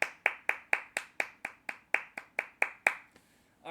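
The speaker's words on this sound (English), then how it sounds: "Let's give a round of applause for Timothy Weah." A single pair of hands claps about a dozen times in a steady, fairly quick rhythm, close and sharp, applauding a footballer before stopping as a voice begins.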